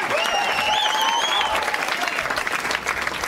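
Studio audience applause on an Italian radio game-show broadcast, steady dense clapping held at full level for the whole stretch, with faint tonal whistles or squeaks riding over it early on.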